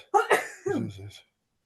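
A single sneeze bursts out nearby, followed by a short voiced tail, then silence.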